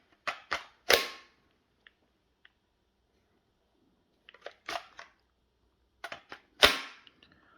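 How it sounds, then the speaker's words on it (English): A Makita 18V battery is slid onto a Makita brushless hammer drill, making a few sharp plastic clicks and snaps in two short clusters, close and crisp with quiet gaps between. "Must admit the Makita is a little bit easier to get on than other batteries."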